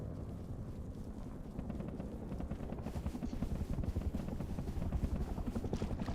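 In the video game Rust a helicopter thuds with rapid, rhythmic rotor chops, growing louder and nearer through the passage, with no voices over it.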